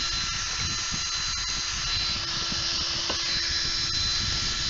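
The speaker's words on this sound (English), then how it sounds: "I'm using one finger to push the drill." An electric drill runs steadily with a constant whirring drone and a faint high whine, continuous and close throughout with no talk.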